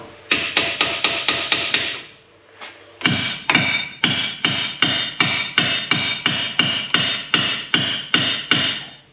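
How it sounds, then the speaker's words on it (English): Hammer blows drive a chisel behind the front wheel bearing of a Saab 9-5 Aero, loud and close, in a fast, even run of metallic strikes. A brief pause splits two bursts of steady hammering. "Just going to chisel in the back of this"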